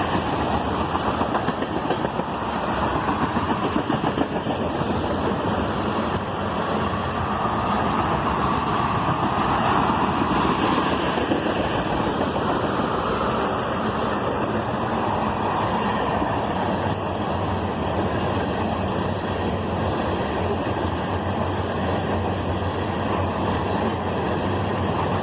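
A freight train with BC Rail, Canadian Pacific and Canadian National locomotives rumbles nearby, a steady, loud diesel engine drone that holds evenly for a long stretch with no talking.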